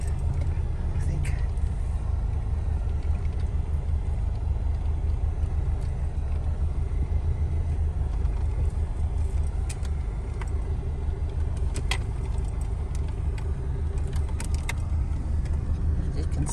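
Car driving along a bumpy dirt road toward a beach camping area, a steady close rumble of tyres and engine with occasional rattles and knocks throughout.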